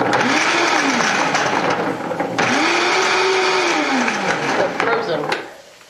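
A Vitamix blender whirs loudly at close range, blending cabbage coleslaw with water; the motor pitch rises and falls through two surges with a brief dip between, then it winds down and cuts off near the end.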